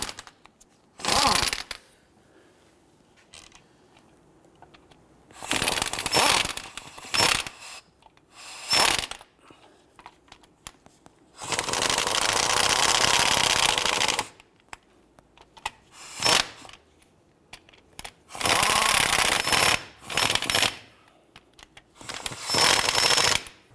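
An impact gun runs down the transmission mount bolts on a 2011-2021 Jeep Grand Cherokee in several sharp, rattling bursts of varying length, separated by quiet gaps and a few tool clicks.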